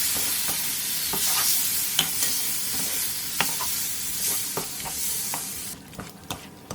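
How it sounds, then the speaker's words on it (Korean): Marinated octopus stir-fried over high heat in an oiled pan with onion and carrot: a steady, loud sizzle with sharp utensil scrapes and taps at irregular intervals, no voices. "재워놓은 낙지를 넣고 센 불에서 볶아주세요"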